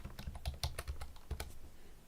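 Computer keyboard keys are typed in a quick, uneven burst of light clacks that thins out toward the end.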